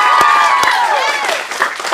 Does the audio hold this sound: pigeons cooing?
no